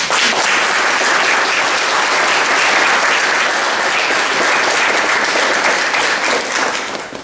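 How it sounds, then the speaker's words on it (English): A crowd at a public library opening ceremony applauds loudly and continuously, a dense, even wash of clapping from many hands that holds for about seven seconds before starting to fade. "I think you deserve a round of applause."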